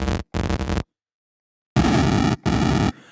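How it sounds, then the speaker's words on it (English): Harsh sample-and-hold noise from the Surge synthesizer, loud abrupt buzzy bursts: two short blasts, a silent gap, then two longer blasts, cut off sharply. "So sample and hold noise. As we can hear, it definitely belongs in the noise terrorism end of the spectrum."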